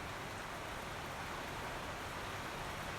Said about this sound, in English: Starting to rain pretty hard.